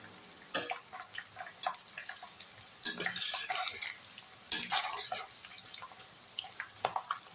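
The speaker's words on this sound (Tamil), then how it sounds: "அது பொரிஞ்சு வரட்டும் நல்லா ப்ரௌனாக." Raw plantain chips and garlic cloves fry in oil with a soft bubbling crackle, broken by a few louder splashy bursts and light clinks, heard up close.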